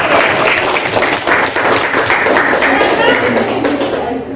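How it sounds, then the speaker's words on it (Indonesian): Schoolchildren in a classroom clap for group 1, a loud, close, somewhat uneven patter of many small hands with thumps and taps mixed in, while voices chatter underneath. "Berikan tepuk tangan kelompok 1."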